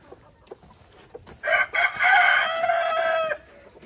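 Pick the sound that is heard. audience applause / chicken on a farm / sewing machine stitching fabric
chicken on a farm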